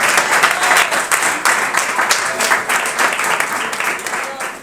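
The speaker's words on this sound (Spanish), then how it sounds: "Dame un aplauso a Dios, amén, por esta hermosa palabra." A church congregation applauding after a Spanish-language sermon, a dense, loud, sustained wash of clapping filling the room with some voices mixed in.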